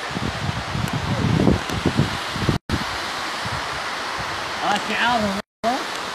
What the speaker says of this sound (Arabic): مشاهد مباشرة من شلالات جيرموك